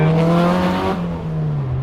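A Nissan Silvia S15 engine revs hard up close in second gear, loud and throaty, its pitch holding high before easing down as the throttle lifts.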